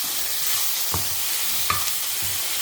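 Prawns sautéing in mustard oil: a steady bright sizzle, close and even, with a few soft stirring knocks against the pan.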